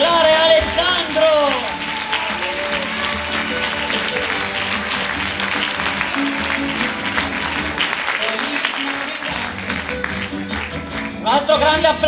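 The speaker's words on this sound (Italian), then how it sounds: "un grande applauso per i nostri cantanti Anna, Daniele, Clara e Alessandro." Sustained applause from an audience at a Christmas Eve music, dance and theatre show, steady and full for the whole stretch, with music and a voice audible beneath the clapping.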